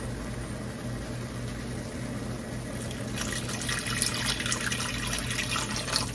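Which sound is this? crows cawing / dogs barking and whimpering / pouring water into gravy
pouring water into gravy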